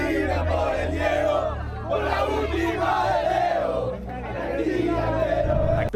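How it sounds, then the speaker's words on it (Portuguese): Argentina football fans chant loudly in the streets of the United States during the World Cup, a dense, sung crowd chant that rises and falls in waves, close and continuous. "Por mais que o técnico Lionel Scaloni tente manter o foco só no futebol, a torcida não para de cantar."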